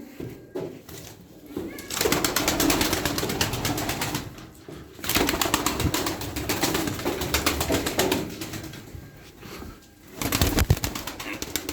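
A flock of tumbler pigeons flies overhead and coos, with bursts of wing flapping and airy rushing noise rising and falling, loud and close, with a voice heard faintly at times.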